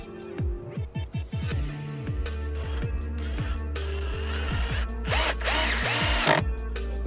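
A cordless drill at its highest torque setting drives a screw into wood with repeated revving bursts and a ratcheting chatter, and the motor whines loudly and steadily near the end.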